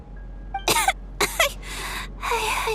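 A character in the video game Genshin Impact coughs two sharp times close up, then follows with two longer, rough, breathy hacking coughs, with no talk in between.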